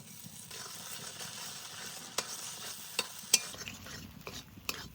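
Cashew, poppy seed and black mustard paste being stir-fried with spices in a home kitchen, a quiet continuous sizzle with occasional sharp scrapes and clicks of the spoon against the pan.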